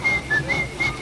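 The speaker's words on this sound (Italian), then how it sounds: "Tutti fischiando," A group whistles a folk song melody at an Italian folk festival, steady sustained notes rising and falling in short phrases, moderately loud and without talking.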